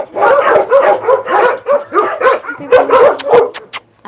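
Dogs at a South Korean dog meat farm bark and yip in a rapid, insistent run of loud, close calls, with a few whimpering notes near the end.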